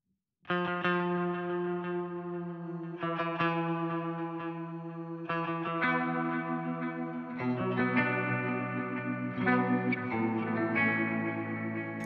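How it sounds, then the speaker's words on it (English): Sustained guitar chords shimmering through a Bigsby vibrato pedal with its detune set to maximum, giving a heavy chorus-like effect, each chord ringing out with a wobbling, thickened tone and a short wash of echo. "Let's engage more detune at the maximum."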